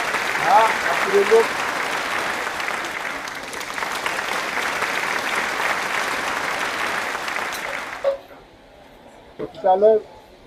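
Audience applause welcoming a speaker at a Senegalese public event, sustained dense clapping for about eight seconds before it drops away, followed by a few brief voices.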